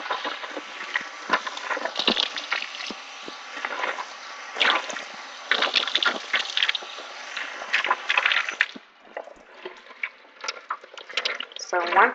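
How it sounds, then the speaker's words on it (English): Tap water runs steadily over a washcloth being wetted with hot water, a continuous splashing rush with small handling noises, somewhat close and moderately loud. "once you run the water over it for a couple seconds"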